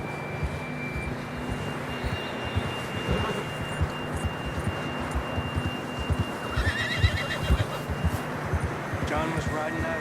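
A horse in the Red Dead Redemption video game whinnies and snorts over a busy mix of hoofbeats and game ambience, with people talking throughout and a few sharper calls near the end.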